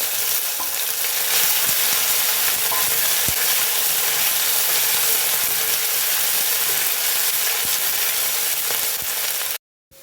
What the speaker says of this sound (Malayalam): ഇനി ഇതിലേക്ക് കറിവേപ്പില, വെളുത്തുള്ളി, ഇഞ്ചിയും ഇട്ട് വഴറ്റി കൊടുക്കാം.